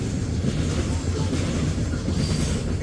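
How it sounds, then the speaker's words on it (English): A long coal train rolls past on an Ohio rail line as a steady, loud rumble and clatter of wagons, continuous and close throughout. "Okay, there goes the end of the coal train."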